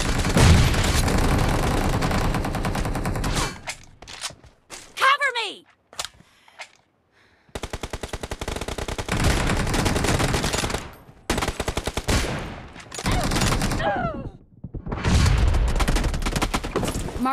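Gunfire in the BGMI mobile battle royale game rattles in loud, dense automatic bursts, stopping and starting several times with short gaps and sweeping whooshes between volleys.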